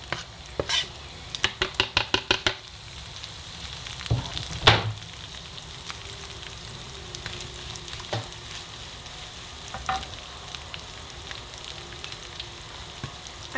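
Peppers, garlic and onions frying in a pan for spicy pork mince, a run of sharp rapid utensil scrapes and clacks at first, then a steady close sizzle with occasional stirring knocks.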